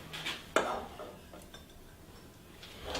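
Butter stirred into a hot sauce in a pan with the heat turned off, heard as a few soft spoon scrapes and light clinks against the pan, quiet and close.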